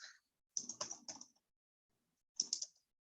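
Typing on a computer keyboard in two short, close bursts of crisp clicking keystrokes, the first longer, separated by about a second of silence.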